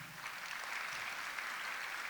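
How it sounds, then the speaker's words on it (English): Faint, distant applause from guests at a KwaZulu-Natal youth business awards ceremony, a soft, even patter lasting a couple of seconds. "round of applause for him"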